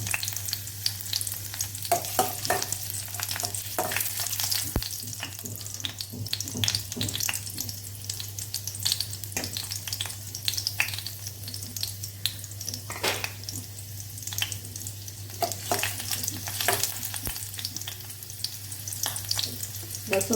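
Finely chopped garlic fries in about two spoons of hot oil, giving a steady close sizzle with crackles, scattered pops and occasional stirring scrapes for about twenty seconds, with no talking over it.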